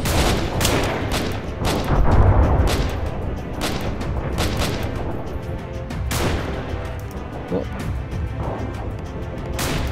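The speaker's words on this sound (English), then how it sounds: "they're opening fire on you as well" Enemy gunfire in the video game Freeman: Guerrilla Warfare erupts as loud, rapid, overlapping volleys of shots and bursts, nearly continuous across the whole stretch.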